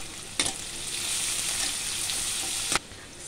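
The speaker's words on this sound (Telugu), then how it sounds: "ఇప్పుడు ఇది మంచిగా వేగిపోయింది" Potato curry frying in a pan, a steady close sizzle with stirring scrapes and two sharp clatters near the start and end, no voices.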